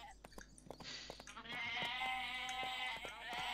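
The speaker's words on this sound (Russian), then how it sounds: "Мои маленькие козлята." Goat kids bleating in a video game, several thin, wavering cries close together and repeating, with soft clicks and game sounds underneath.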